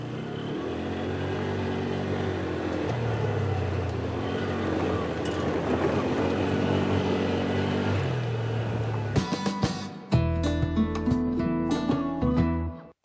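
A Polaris off-road vehicle engine drones steadily while driving over rough, difficult terrain, then about nine seconds in the drone breaks into abrupt, sharp, jolting sounds.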